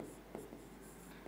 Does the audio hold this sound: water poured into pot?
no